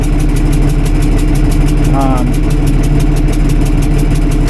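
A 1978 International Harvester 1586 tractor's diesel engine idles steadily and loudly close by after a cold start, with a rapid even chug and a brief whine partway through.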